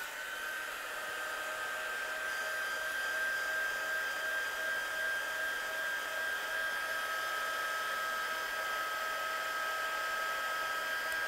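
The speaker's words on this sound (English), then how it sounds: "we'll dry it with our gun, and it will bleach it out even more when you heat set it" Steady whir of a heat gun drying ink on a craft background, a constant high-pitched motor tone with airy blowing noise that runs unbroken and fairly close throughout.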